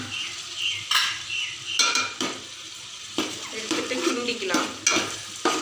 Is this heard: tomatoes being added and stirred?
yes